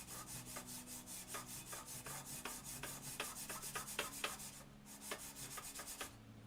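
Quiet, rhythmic rubbing and scraping of a Stanley No. 5 hand plane iron stroked back and forth over a honing stone, steady strokes with a faint background hum.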